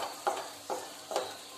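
Grated coconut is stirred while roasting in a wooden frying pan, producing three soft, evenly spaced scraping strokes over a faint, quiet sizzle, with no talking.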